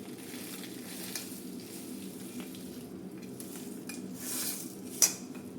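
Dried curry leaves and drumstick leaves fry in a pan for a spicy powder, giving a steady soft sizzle with light scraping of a utensil against the pan and a sharp clink near the end.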